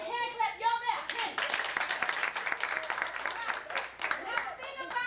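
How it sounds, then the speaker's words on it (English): A group gives a round of hand claps, with dense, uneven clapping that builds and holds for several seconds. Children's voices and other talk can be heard at the start and end. "Give them a hand clap."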